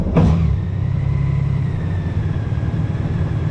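A Honda Goldwing motorcycle engine runs on its centre stand, a steady close idle rumble with a brief sharp clunk at the start, continuing evenly at fairly loud level.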